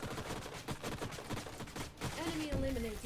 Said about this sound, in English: Give him the old rotary cannon.